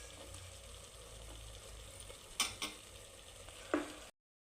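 Coriander powder and spices stirred into a pan over a medium flame for fenugreek-leaf pulao, a low steady sizzle with a few sharp spoon scrapes and clinks near the end.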